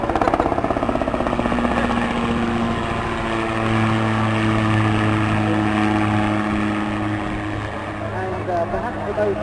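An autogyro flying low over an airshow crowd, its propeller engine droning steadily with a rising and falling tonal hum, fairly close and loud, with a voice talking over it.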